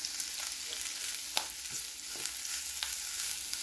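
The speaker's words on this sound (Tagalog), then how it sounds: "Magluluto ako guys ng gulay." Mixed vegetables frying in a pan, a steady hiss of sizzling oil with a few soft stirring scrapes and clicks, close and continuous, with no voices.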